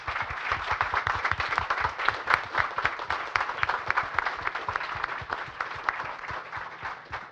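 Steady, dense audience applause fills a conference panel room at close range, with many hands clapping continuously at an even level throughout.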